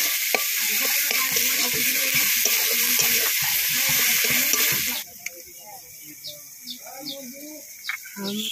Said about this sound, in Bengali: দিয়ে একটুখানি নাড়িয়ে নেব, ভালো করে মশলাটা কষিয়ে নেব